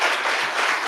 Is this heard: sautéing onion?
no